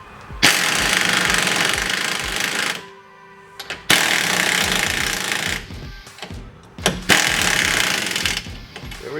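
Loud bursts of a rattling power tool tighten a front control arm bolt on a 2006 BMW 530i, three long hammering runs of about three seconds each, close up, with short pauses between.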